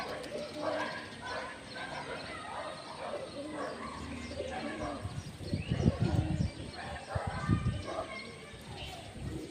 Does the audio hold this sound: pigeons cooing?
yes